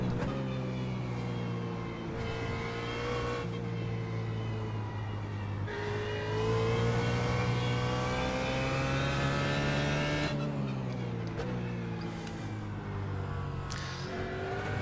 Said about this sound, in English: Just gave it a full throttle there, see what happens, and stepped out a bit.